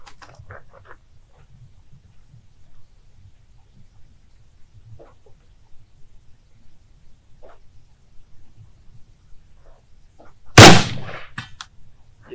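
A single loud, sharp shot from an M1 Garand rifle fired at a steel plate target outdoors, with a brief ringing tail, after a long stretch of quiet near-silence.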